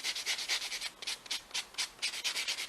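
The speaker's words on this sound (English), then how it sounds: "Just to make sure you have it smooth like you need it to be" A buffer is worked over powder-dip nails on a mannequin hand, making quick, rhythmic, close-up rubbing and sanding strokes that repeat steadily with no talk.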